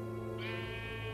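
A sheep bleats in the video game Minecraft Story Mode, one short bleat rising over steady game background music.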